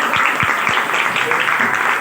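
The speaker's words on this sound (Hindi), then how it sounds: "जोरदार तालियां आपने को बजाइए, जोरदार तालियां" Loud applause from a church congregation in Karachi's Mehran Town, a dense, steady wash of clapping filling the room with a few sharper claps standing out near the start.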